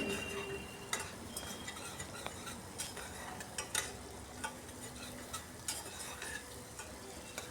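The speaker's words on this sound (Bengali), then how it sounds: "এবার মশলাটাকে একটু সময় নিয়ে কষাতে হবে" Thick spice paste cooking down in a pan for a Bengali rice offering, with a steady low sizzle under repeated scraping and stirring strokes of a spoon, close and fairly quiet, no voices.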